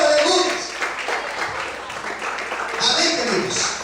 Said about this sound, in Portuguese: Você pode aplaudir e glorificar o Senhor, aleluia.